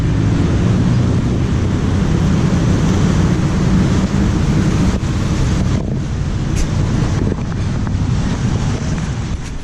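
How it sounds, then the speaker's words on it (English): Strong wind blows steadily across the microphone outdoors in Bangkok, a loud continuous rumbling roar with gusty buffeting that never lets up, with no voices. "the wind is starting to blow pretty good"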